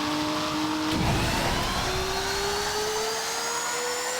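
A car engine in the Roblox racing game Nitro car drones at a high, whining pitch that climbs steadily as the vehicle holds near top speed, loud and continuous.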